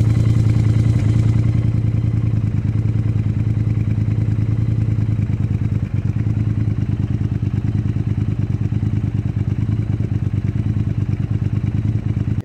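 A Triumph Thruxton R motorcycle with a long aftermarket exhaust idles steadily nearby, a loud, even, rhythmic low thumping engine note that holds throughout without talk.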